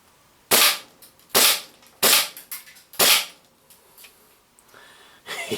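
A G&G SMC-9 airsoft gun fires four sharp, loud single shots at an uneven pace, followed by a few fainter clicks and rattles and a soft rising noise at the end.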